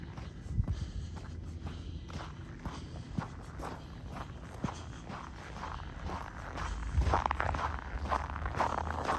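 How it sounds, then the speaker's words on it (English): Boots crunch over frozen snow and hoarfrost on a -19 C walk around a lake in Regina, a quiet, close, steady rhythm of crisp crunching steps with occasional rustle, no talking. "I'll do a walk without talking. You just hear the crunch."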